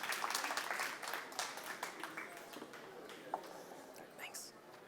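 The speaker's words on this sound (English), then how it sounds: "Please give a warm round of applause to Aaron." Brief, moderate applause from a tech conference audience welcoming a speaker onstage, uneven clapping that tapers off quickly, with soft murmured voices beneath.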